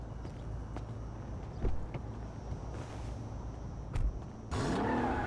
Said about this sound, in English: flooring somebody else's car while nobody's looking